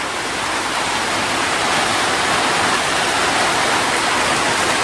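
Steady heavy rainfall during a monsoon downpour, a dense continuous hiss filling the space without pause, no voices.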